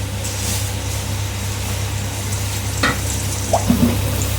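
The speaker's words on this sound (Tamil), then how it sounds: "இப்போ நம்ம எண்ணெயில் வந்து போட்டுக்கலாங்க ஹீட்டான பொருள் போட்டுக்கலாம்" Rice-flour and jaggery adhirasam dough frying in hot oil for a Tamil sweet, giving a steady close sizzle with a few sharper spatters and clinks near the end, without talk.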